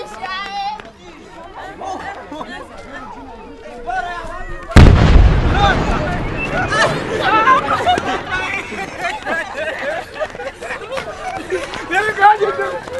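Artillery and gunfire near a military base during fighting in the Rumangabo area of DR Congo, a sudden heavy boom followed by rumbling echoes and scattered distant shots, with people chattering and talking throughout.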